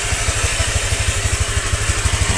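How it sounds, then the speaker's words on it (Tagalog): A Honda Click motor scooter idles while warming up, its engine putting out a loud, close, steady pulsing putter with an even rapid rhythm and no voices. "So yun, pinapainit po yung motor natin."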